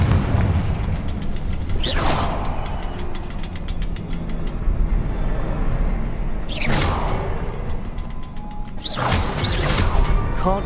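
The Confringo spell in Hogwarts Legacy sets off three loud, sharp blasts at spaced intervals, each with a bright crackling burst, over a continuous rumbling combat background.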